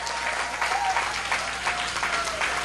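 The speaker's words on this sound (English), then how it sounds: "Give the young people a big round of applause." A church congregation applauds warmly at New Journey Ministries Church of God in Christ, steady dense clapping throughout with occasional voices rising over it.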